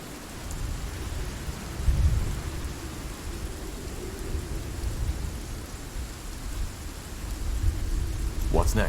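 Steady heavy rain hissing in a thunderstorm in the fantasy video game SpellForce 3, with low rolling thunder rumbling underneath throughout, no voices.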